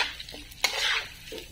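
Ghee being stirred into besan (gram flour) in a pan, heard as a few scraping, clinking strokes of a spoon against the metal with a soft sizzle underneath, close and fairly quiet.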